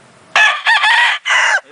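A rooster crows close and loud in a single call, a strident rising burst followed by a brief break and a held final note, standing alone against a quiet background.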